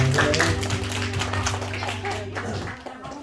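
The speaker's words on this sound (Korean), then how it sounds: "우리 하나님께 영광의 박수 올리겠습니다." A congregation applauds during a Sunday combined worship service in a Korean church. Dense clapping sits over sustained musical tones and continues steadily for about three seconds before thinning out.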